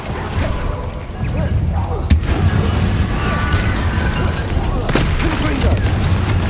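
The Bombarda explosion spell goes off in Hogwarts Legacy: heavy booms with crackling, mechanical debris land amid a dense spell-combat din, and a few sharper hits stand out.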